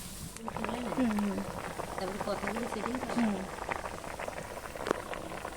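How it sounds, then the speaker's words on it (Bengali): A pot of vegetable curry with yardlong beans bubbles steadily on the stove, a soft continuous simmer heard throughout while someone talks over it. "এই দেখো তরকারি সুন্দর ফুটে গেছে"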